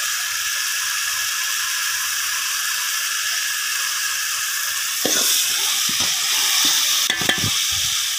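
Ginger garlic paste frying and sizzling in hot oil for a spiced rice dish, a steady loud hiss with stirring scrapes toward the end, and no talking.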